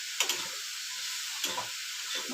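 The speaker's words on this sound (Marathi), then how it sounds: "आता हे चांगलं ना परतून घ्यायचं खोबरं जवळच राहायचं" Coconut and jaggery filling sautéed in a pan over low heat, with a steady close sizzling hiss and a few brief scraping stirs of a spoon against the pan.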